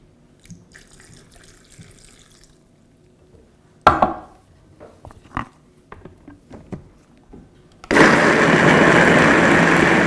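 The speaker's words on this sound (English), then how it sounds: "And then I'm going to add a little bit of water to get this to blend." Scattered clinks and pours give way to a blender starting abruptly and running loud and steady while blending Thousand Island dressing with water, close and continuous to the end.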